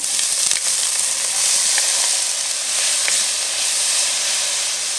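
Smoked, precooked andouille sausage browns in a hot pan, giving a loud, steady sizzle and hiss with faint crackles and occasional stirring scrapes throughout.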